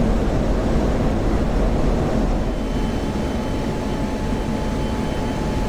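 F-16 jet landing in the DCS flight simulator, a steady, loud engine roar with deep rumble that holds level throughout with no voices.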